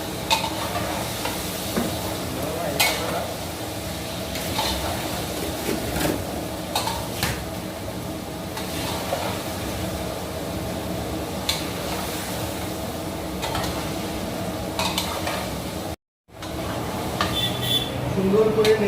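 Young goat meat stir-frying in hot oil, a steady sizzle with stirring and occasional clinks of a spatula against the pot, moderately loud and continuous, with one brief dropout near the end.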